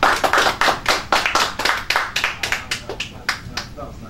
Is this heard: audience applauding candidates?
yes